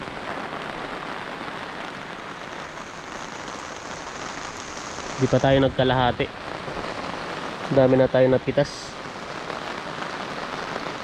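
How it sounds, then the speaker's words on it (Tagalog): Steady rain patters on a hut roof on a farm throughout, with two short bursts of people talking partway through. "Nabutan na naman tayo ng ulan. Maulan na talaga dito sa bukid."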